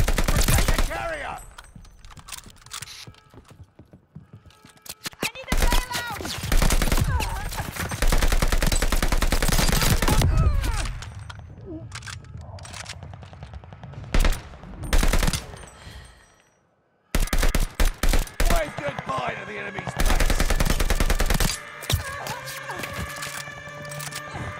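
A machine-gun strafing run tears across a Call of Duty: Vanguard battlefield in long, loud, rattling bursts with brief silent gaps, mixed with explosions and occasional shouted voices.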